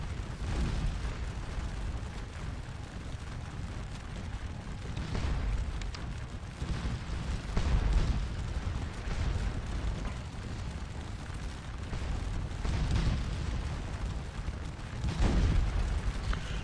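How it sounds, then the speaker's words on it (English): Artillery in the video game Scourge of War Waterloo pounding an infantry square, with repeated deep booms and rumbling blasts at irregular intervals over a continuous low battlefield roar, heard without talk. "this square is getting pounded on by our artillery over here"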